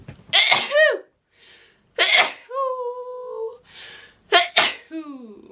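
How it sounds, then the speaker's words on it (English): Several sharp sneezes burst out close to the microphone, separated by breathy gasps and brief vocal sounds. "I'm gonna sneeze again"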